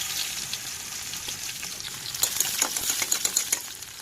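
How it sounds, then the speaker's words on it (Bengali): Sliced bitter gourd frying in oil, a steady close sizzle that grows busier and crackles sharply partway through, with no speech. "এবার একই তেলে কেটে রাখা উচ্ছেগুলো দিয়ে দেবো উচ্ছেগুলোও ভেজে নেব"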